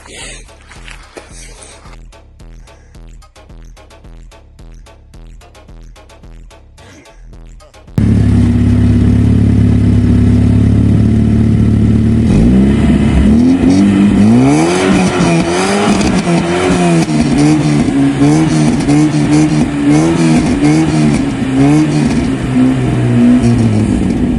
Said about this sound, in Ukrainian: Зараз спробуємо ще раз бернаут.